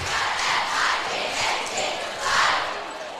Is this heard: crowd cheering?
yes